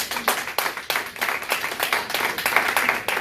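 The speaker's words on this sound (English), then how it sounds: "Can you clap it up for him one time?" An audience claps along in a loose, fairly regular rhythm, many hands striking together in repeated bursts at moderate loudness, close and clear with no talk over it.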